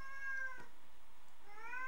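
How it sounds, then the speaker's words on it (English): A cat meows twice indoors in the background, with one drawn-out call near the start and another rising call at the end, fairly faint and with no talking over it. "I'm listening to the ghostly cat in the background"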